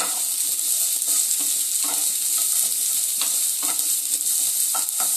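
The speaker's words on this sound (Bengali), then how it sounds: "প্রথমে পেঁয়াজটাকে দিয়ে দেব আর রসুনটাকে দিয়ে দেবো পেঁয়াজ আর রসুন একটু লাল হলে" Onion and garlic sizzle in hot oil while a spoon stirs them around the pan, with regular scraping strokes over a constant close frying hiss.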